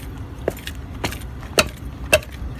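Lug nut on a car wheel creaking as a wrench forces it loose while changing a flat tire, heard as three or four short sharp metallic creaks and clicks spaced about half a second apart over low background noise.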